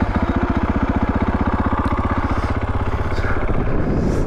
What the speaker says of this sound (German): So, dann machen wir das Bike mal an.